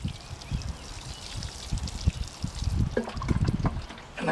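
Water pours and trickles onto a freshly transplanted tomato plant in a garden, a steady low splashing that runs for a few seconds and swells louder near the end.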